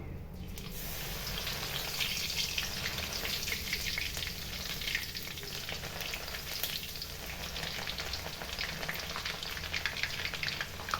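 Crushed garlic frying in hot oil while kara boondi, a Diwali snack, is being made: a steady, close sizzle and crackle that holds level throughout, with no talking.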